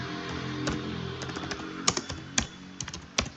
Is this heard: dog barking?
no